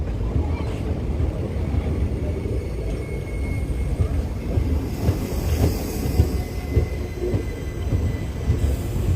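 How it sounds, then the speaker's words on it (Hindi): The Sabarmati Express, linking Gujarat with Una in Himachal, rumbles past with a steady, loud, low rolling roar of wheels on rails that stays heavy throughout, with no clear voices. "ये साबरमती एक्सप्रेस है जो गुजरात को ऊना हिमाचल के साथ"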